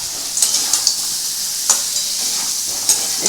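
Fried potatoes, dried lentil bori and dried red chillies are stir-fried in oil with fish curry masala, a close steady sizzle punctuated by regular spatula scrapes and taps against the pan.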